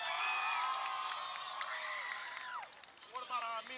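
Spectators at a Hardeeville versus Whale Branch high school football game cheer and whoop for the Warrior cheer team, a sustained crowd roar that fades, then scattered voices and shouts.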